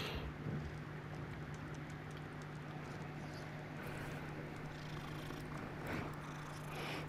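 A real pet cat purrs close by in a steady, continuous low rumble that holds throughout, faintly mixed with background sound from a video game.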